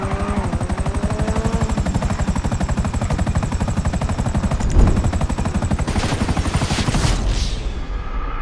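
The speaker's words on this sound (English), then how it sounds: "Another chopper." A helicopter in Grand Theft Auto 5 thrums steadily up close, its fast rotor chop pulsing loud throughout, with rattling gunfire bursts and a swelling whine near the end.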